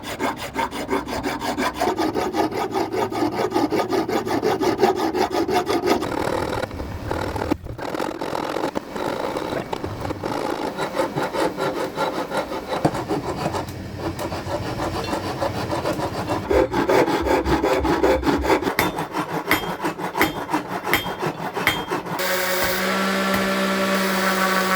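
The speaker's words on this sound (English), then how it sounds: "I got the slingshot all sanded" An aluminum slingshot made from soda cans is sanded with continuous rough, scratchy rubbing strokes, close and fairly steady, with a few short pauses and no talk.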